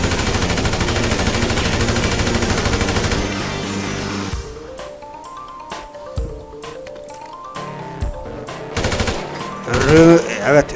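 Rapid cartoon-style gunfire effects come in dense bursts over music during a drawing-board duel, then shorter scattered shots and clicks follow more quietly.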